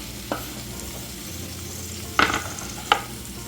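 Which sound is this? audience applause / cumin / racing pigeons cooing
cumin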